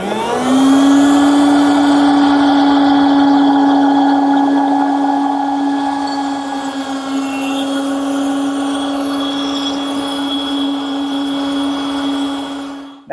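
A router on a router table whines at a steady high pitch as a small wood piece for a jewelry box is pushed through the bit, loud and close with a slight pitch drop under load, no talk.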